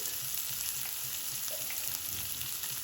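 Onions frying in a pan over a raised flame while cooking a pumpkin curry, giving a steady, close hiss and sizzle with faint crackles and no talk.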